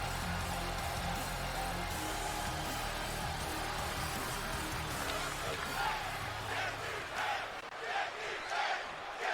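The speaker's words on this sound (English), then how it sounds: "Crowd chanting, "Get these hands."" Arena crowd in the WWE 2K20 wrestling video game chanting in rhythmic waves, a dense, steady roar of many voices that swells and pulses throughout.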